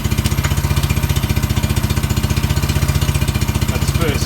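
Suzuki Quad Runner engine idling and put into first gear, a fast, even, close putter of firing pulses with a faint clunk near the end.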